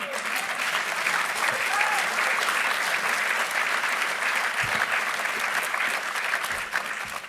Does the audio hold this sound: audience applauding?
yes